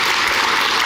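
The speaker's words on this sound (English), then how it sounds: "Let's give Melinda a round of applause, okay?" Short, loud burst of congregation applause at a church service, a dense wash of clapping without talk.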